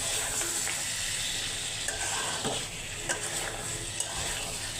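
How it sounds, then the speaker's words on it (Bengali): Jackfruit seeds, dried fish and potatoes sautéed in a pan: a continuous frying hiss with occasional light scrapes and taps of the spatula, moderately loud and close. "এখন আমি একটু কষাবো এইভাবে।"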